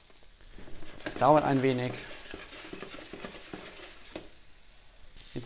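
Bread croutons fry in butter in a pan, a soft steady sizzle that swells briefly and then settles into a low crackle beneath a person speaking.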